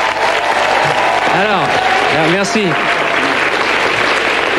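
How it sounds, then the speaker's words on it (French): Studio audience on a 1999 French TV show clapping after a car advertisement, a steady wash of applause under a voice speaking over it. "c'est la première fois finalement qu'on applaudit des publicités"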